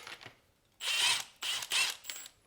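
Axle bolt being loosened on a Yamaha YZ250FX motorcycle front wheel, heard as a few close, loud ratcheting bursts of wrench clicks separated by short pauses.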